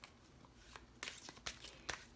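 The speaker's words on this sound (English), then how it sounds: "I'm just going to shuffle on camera out of the Everyday Witch" Everyday Witch tarot deck being shuffled by hand, a few soft papery riffles and taps, close and quiet with no talking.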